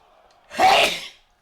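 A single human sneeze bursts out close and loud amid quiet chatter, a brief sharp blast lasting about half a second.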